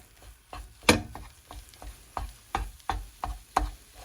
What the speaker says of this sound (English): I need one hand to hold the skillet and the other hand to mix this really well